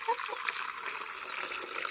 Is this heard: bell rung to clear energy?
no